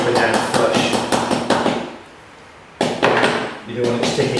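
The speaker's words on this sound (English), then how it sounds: "And then just knock the pasted paper down flush." Pasted wallpaper is knocked down flush with rapid, close, sharp taps in quick bursts, a brief quiet pause midway, then another run of firm knocks.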